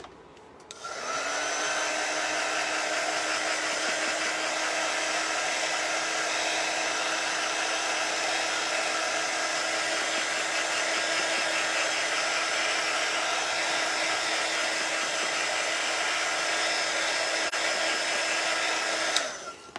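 A hair dryer runs steadily for nearly twenty seconds, drying chalk paste on a craft project, a loud, even whirring blow from start to finish with no talk.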